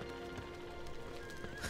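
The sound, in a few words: horse neighing and hooves in video game Torchlight 2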